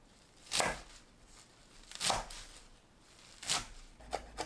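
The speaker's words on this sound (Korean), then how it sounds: "3cm 길이로 썰어주세요." Crown daisy (ssukgat) is cut into 3 cm lengths on a cutting board: three distinct, soft knife chops spaced over a second apart, then two quicker lighter taps, close and quiet with no talking.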